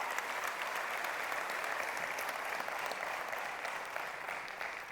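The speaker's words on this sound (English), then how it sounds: "that deserves a huge round of applause for the entire product team and for all of you fans." Steady, dense applause from a large crowd at a OnePlus 6 launch event, loud and continuous throughout with no pauses.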